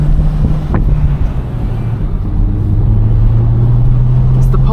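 A Honda car drives with a damaged muffler folded in on one side after backing into a curb, its exhaust hanger loose, giving a low steady droning hum with wind buffeting the microphone throughout.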